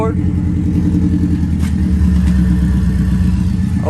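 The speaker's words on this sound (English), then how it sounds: "we do a downpipe start just to see what it sounds like" A Subaru WRX fitted with a Tomei exhaust and open downpipe idles and revs loudly at close range, with a deep droning burble that swells, while excited voices talk over it.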